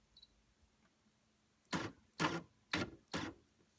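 An older embroidery machine makes four quick, evenly spaced mechanical clacks as it steps back a couple of stitches, close and short, with near-silence before them and no talking.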